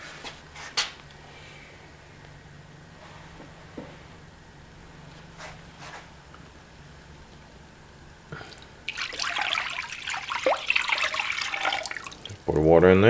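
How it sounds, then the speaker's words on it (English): Water is poured into a Groen TDB 6-10 jacketed electric kettle, a splashing, gushing stream that rises late after scattered drips and light handling noises, with someone talking quietly in the background. "Right now I'm going to pour some water in there to show you that it does boil"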